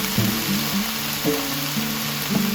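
Sautéed mushrooms sizzle in a big pan, a steady close frying hiss with a few scraping stirs and tonal clinks, with no talk.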